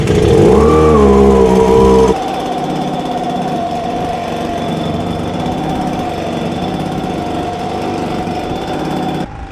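Two-stroke engine of an Echo ES255 Shred N Vac leaf shredder vacuum blower running steadily and loud up close, starting at a higher rev for two seconds then settling into a lower continuous drone until it cuts off at the end.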